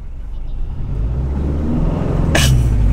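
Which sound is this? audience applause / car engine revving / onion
car engine revving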